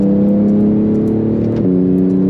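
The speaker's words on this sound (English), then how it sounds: "This is half throttle, and I am flying" A 2018 Porsche GT2 RS accelerates at half throttle, its engine a loud steady droning tone heard from inside. The pitch steps down sharply once near the end, like a gear change.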